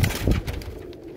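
A short, soft pigeon coo, low and throaty, heard close by for about a second.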